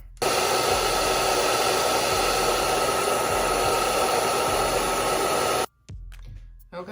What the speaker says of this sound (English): And then once I have it down, then I can blow dry.